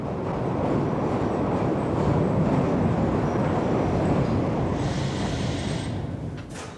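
A Glasgow Underground subway train in 1977 rumbles steadily along the track, a loud continuous roar with a brief rise of hissing screech near the end.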